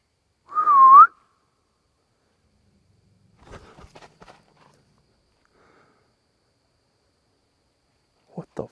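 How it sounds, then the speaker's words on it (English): A single short whistle heard outdoors at a remote campsite, rising and falling in pitch, followed by silence, a few faint rustling footsteps and another brief sound near the end. "Right, is that whistling?"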